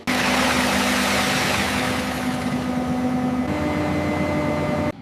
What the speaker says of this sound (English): The drilling rig creates a precise pattern of deep holes across the salt face.